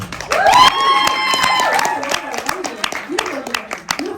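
A theatre audience at a live spoken-word performance breaks into applause and cheering, a dense wash of clapping mixed with whoops and a voice over the crowd.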